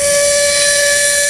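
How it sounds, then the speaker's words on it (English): A small air whistle on a caboose at a railroad museum sounds one steady, loud, shrill tone that holds without a break, with a hissing edge of escaping air and no talk over it. "Got a little air whistle."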